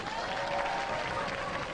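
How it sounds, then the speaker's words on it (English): Studio audience applause at a Robot Wars robot-combat show, a steady, dense wash of clapping filling the whole stretch at moderate volume, with a faint held tone running underneath. "ladies and gentlemen, give them a round of applause"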